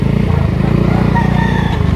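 A white Kelso rooster of the Biboy line in Lipa, Batangas clucks and crows briefly close by, over a constant low engine drone.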